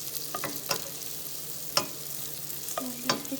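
Chorizo browns in a pan with a soft, steady sizzle, broken by a few sharp scraping and stirring clicks of a utensil, close by and with no voices.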